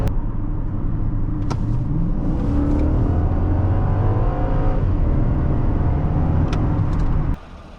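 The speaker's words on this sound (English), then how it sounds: "let's ease into the throttle and go. We're gonna warm it up a bit." A car engine revs and accelerates with a loud, steady rumble and rising whine, then cuts down abruptly near the end.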